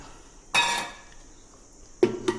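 Soaked chana dal poured into a metal pressure cooker for dal fry, a brief rattling clatter of grains against metal, then two short clinks a moment later, close and fairly loud with no talk.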